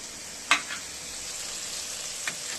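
Prawns fry in hot oil with a steady, close sizzling hiss, broken by a sharp spatter or stir clatter early on and a smaller one near the end.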